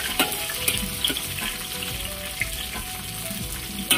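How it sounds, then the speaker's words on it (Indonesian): Lemongrass, ginger, garlic and shallots fry in a hot pan with oil, a steady close sizzle and crackle broken by a few louder pops and spatters, with no talking. "Kita gorengnya agak naik bau lah, naik wangi ya."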